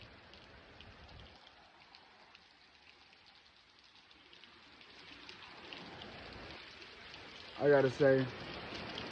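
Rain falls steadily as a soft, constant hiss throughout, with someone speaking briefly over it near the end.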